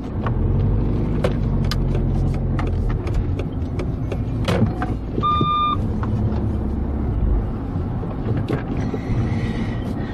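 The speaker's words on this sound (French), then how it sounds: "On va se garer là" A car pulls into a space in a Lidl supermarket parking lot, its engine rumbling steadily at close range with road and wind noise, a short electronic parking-sensor beep partway through, and no one speaking.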